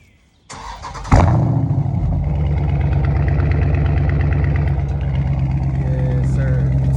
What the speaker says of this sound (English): let me give y'all a little cold start real quick.